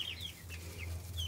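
Large, young mixed-breed chicks, including Americana and Black Australorp crosses, cheep and chirp softly in a brooder, giving a few high calls over a steady low hum.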